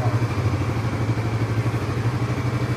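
A Suzuki GSX-S150 single-cylinder motorcycle engine idles steadily close by, giving a continuous low throbbing pulse with a light mechanical clatter. No one speaks over it.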